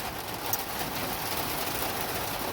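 Steady rain hisses evenly throughout, a dense constant patter with no pauses and no voices.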